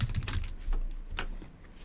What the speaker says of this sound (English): To type a text, you need to select and start typing.